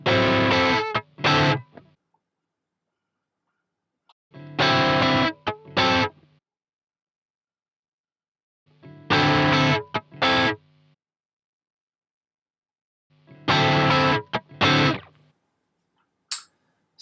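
Distorted electric guitar playing the dominant 9th verse section of a song in short, punchy chord stabs, four separate bursts of rhythmic strumming with silent gaps between them, loud and close with no talking.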